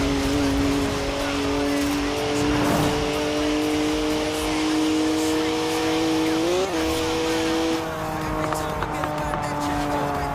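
BMW 1M from Forza Horizon 4, a rear-wheel-drive car, holding a steady engine drone that rises and shifts pitch as it revs, with tire noise underneath and a voice talking over it throughout.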